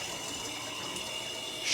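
Low-pressure shower in a Nashville apartment turned on, giving a thin, steady hiss of dribbling water that holds even throughout and swells slightly at the end, with no talking.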